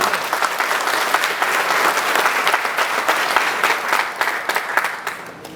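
Audience at a Tamil political speech by Seeman breaks into sustained, dense applause with crackling hand claps throughout, loud and steady for several seconds with no voice on top.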